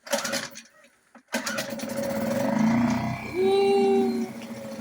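An outboard boat motor is started after winter storage. It sputters briefly, cuts out for a moment, then catches and runs steadily, its pitch climbing as it revs up near the listener.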